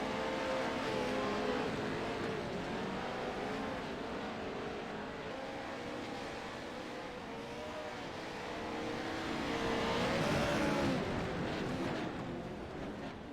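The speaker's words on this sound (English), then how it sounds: "running the Pro Ford trucks here at the Wild Horse track" Ford Pro trucks race around the Wild Horse track, their engines droning steadily for the whole stretch and swelling louder as a truck passes close near the end.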